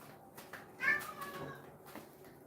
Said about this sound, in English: I do hear your meows, yes.